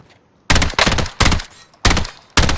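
Gunfire in a shooter video game, the SA12 shotgun blasting four or five loud, sharp shots in an uneven rhythm, each separated by brief silence, with no talk.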